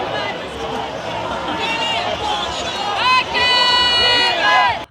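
Night protest crowd at Place de la République in Paris, a dense roar of many voices and shouting, with sustained whistles or piercing flare-like tones rising in the second half, loud and continuous throughout.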